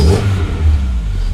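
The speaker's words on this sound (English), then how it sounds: "Oh, nice little pop from the exhaust as well" A Mark III Golf engine revs up loudly and close, a deep continuous roar that rises and falls over a second or so; no distinct exhaust pop stands out.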